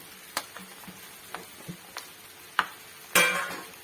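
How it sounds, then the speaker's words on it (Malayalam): Crushed coconut tips into clam meat frying in a pan, with a sharp sizzle burst near the end after scattered ticks and clinks of stirring, close and fairly quiet. "ഒരു മുറി തേങ്ങ ചതച്ചത് ഇതിനകത്തോട്ടിടാം"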